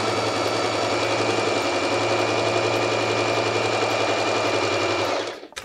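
A Butterfly JHK25A portable sewing machine runs a straight stitch in one loud, steady, rapid mechanical whir, then stops abruptly at the end.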